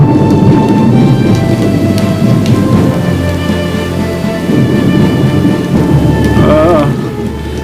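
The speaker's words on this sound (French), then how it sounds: "La pluie va tomber." Heavy rain pours steadily onto surfaces with rolling thunder rumbling underneath, loud and continuous throughout, with a brief higher sound near the end and no speech.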